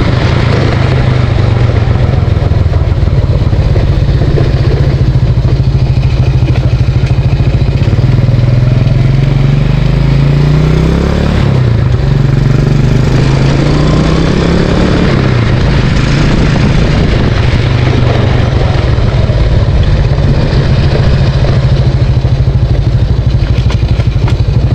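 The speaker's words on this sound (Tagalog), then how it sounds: "bakit maingay yung makina nitong ating Motorstar, dahil hindi ko pa nga pala nilalagay yung kanyang air filter" A loud Motorstar motorcycle engine running without its air filter drones continuously nearby, rough and clattering, revving up briefly midway before settling back to idle.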